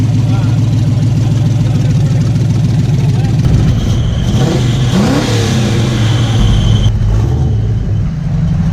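Loud car engine at an outdoor town hall car show, a deep idling rumble that swells into revving mid-way, close and dominant, with people talking over it.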